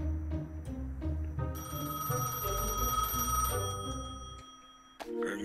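A telephone at a booth in front of a gas station in the Gas Station Simulator video game rings steadily, a bright electronic bell tone. It sounds over a low rumbling background and cuts off abruptly near the end.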